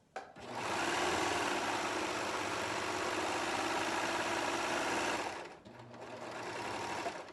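A serger stitches fabric for an infinity scarf, starting with a click and running in one long, steady, fast whir for about five seconds, then briefly slowing before it whirs up again, close and alone.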